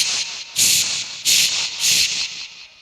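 A voice imitates a pressure cooker whistling in quick succession: three sharp, loud hissing bursts in a steady rhythm, each cut off by a brief pause, close and without other sounds.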